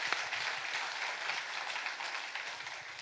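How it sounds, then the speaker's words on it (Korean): Congregation applause in a church after a sermon, a soft, steady wash of many hands clapping at a distance, filling the whole moment without any voices. "우리 하나님께 박수를 한번 영광 드립니다."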